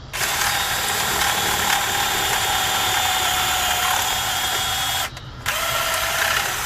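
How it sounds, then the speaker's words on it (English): A power drill with a paddle bit whines steadily while grinding through rubber in a Jeep TJ control arm sleeve, pausing briefly near the end before spinning up again. "take the paddle bit, put it right up against that inner sleeve."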